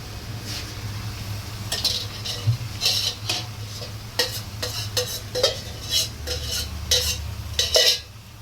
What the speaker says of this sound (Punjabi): ਤੁਹਾਨੂੰ ਦਿਖਾਉਂਦੇ ਮਸਾਲੇ ਨੂੰ ਭੁੰਨ ਲਓ ਜੀ ਮਸਾਲਾ ਆਪਣਾ ਥੋੜਾ ਭੁੱਜ ਗਿਆ